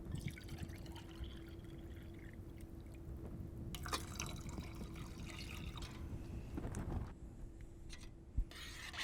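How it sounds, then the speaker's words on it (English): A can full of water is poured into a soup pot, a steady rushing and splashing of liquid that holds at a moderate level for several seconds, close by and without talk. "Now I'm going to dump in a can full of water"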